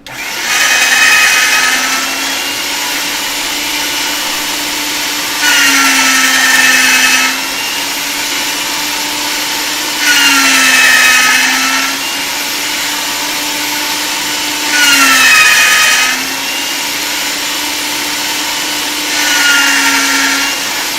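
A pasta machine rolls polymer clay on a thicker setting, giving a steady mechanical whir under a constant hum, with louder bursts of grinding roughly every five seconds.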